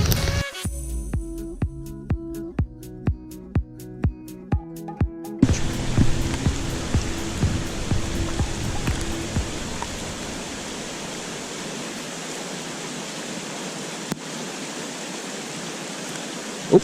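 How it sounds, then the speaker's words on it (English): Heavy rain pours down at a suburban canal in Davie, Florida, a steady broadband hiss filling the scene after a rhythmic series of sharp knocks in the opening seconds. "Rain is coming down harder, so if it stays pouring like this"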